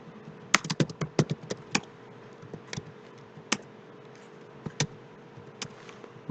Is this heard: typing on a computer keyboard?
yes